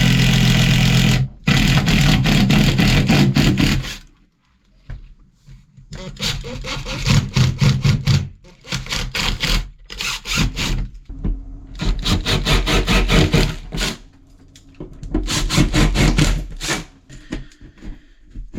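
A power drill bores through a plaster stud wall during wet-room plumbing work, running in loud sustained bursts separated by short pauses, each run grinding steadily.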